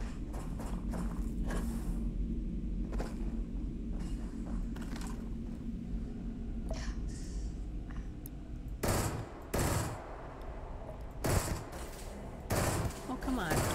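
Rapid gunfire from a firefight in Starfield, with loud bursts of shots clustering toward the end over a steady low hum of game ambience.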